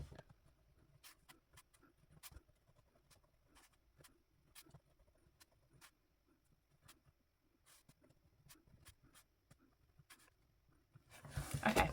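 Handwriting with a pen on paper, faint quick scratchy strokes in irregular bursts close by in a quiet room, ending with a louder rustle of handling.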